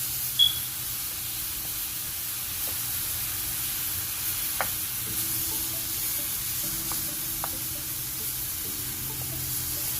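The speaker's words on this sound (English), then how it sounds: "Use a wooden spoon to cut it up in chunks," Ground beef in a bowl for a curry meat pie, broken into chunks with a wooden spoon, giving a soft continuous hiss with occasional light taps and scrapes.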